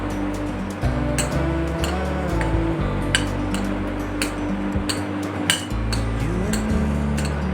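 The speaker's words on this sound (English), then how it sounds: "And now mix it well." Spoon or utensil clinking and scraping against a metal bowl while spiced paneer sandwich filling with white pepper, red chili and black salt is mixed, a steady run of close, clattering taps with no talk.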